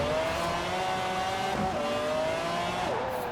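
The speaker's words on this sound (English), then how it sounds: "This McLaren F1 definitely good on power here in S1 class." A McLaren F1 supercar in the racing game Forza Horizon 4 holds a loud, continuous engine tone with slight pitch shifts through gear and throttle changes, steady throughout.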